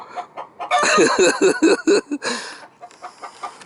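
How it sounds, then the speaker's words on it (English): A chicken clucks in a rapid, loud run of close cackling notes that taper into softer, scattered clucks. "Hey, Chicken Little. Is that you, Chicken Little?"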